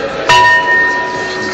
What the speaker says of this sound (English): let the gong ring for public services.